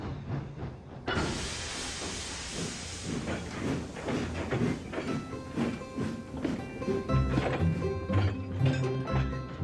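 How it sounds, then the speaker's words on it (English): A burst of steam hiss gives way to a steady, rhythmic chuffing of a steam locomotive in a Roblox game, with clanking and a low rumble underneath. "So after she took on water and lots of coal, Emily buffered up to the slow goods train."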